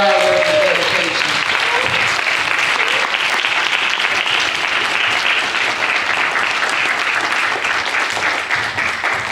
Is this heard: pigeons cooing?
no